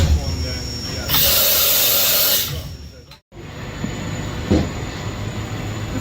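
On a Johnford DMC-3100SH CNC vertical machining center, the metal way covers slide with a loud rushing hiss for about a second, then fall away to a quieter machine hum with a few faint knocks.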